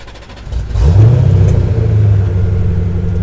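A Corvette V8 cranks briefly and fires up, swelling into a loud, close, deep rumble that settles into a steady throbbing idle.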